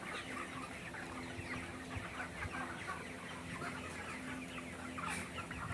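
A dense flock of broiler chickens on a poultry farm clucks continuously, many birds overlapping in a steady, close chorus with no talking.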